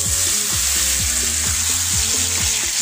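Turmeric, salt and sugar water from marinated kakrol is poured into a hot frying pan for a coconut dish, producing a loud, dense, continuous sizzle up close, alone without voices.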